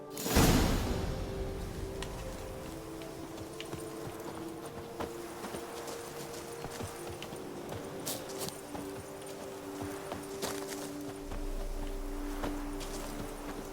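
Horse hooves in The Witcher 3 video game clip-clop at a steady walking pace over soft ambient music and faint whooshes, fairly quiet and continuous throughout.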